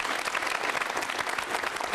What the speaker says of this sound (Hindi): तालियां क्यों नहीं बजा रहे हो?